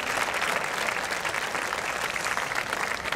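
Steady, dense audience applause at a Greek performance about Corfu, continuous and fairly loud throughout with no talk.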